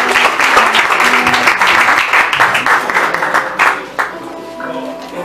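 Congregation at a Brazilian church service clapping loudly to welcome the next speaker, lively applause that thins out in the last second with some voices mixed in.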